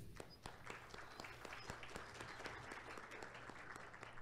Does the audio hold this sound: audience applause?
yes